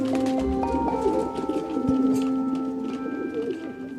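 Pigeons in a kept flock, of the kind bred by a pigeon fancier, give low murmuring coos and soft calls that run continuously, with a steady hum of other sounds underneath.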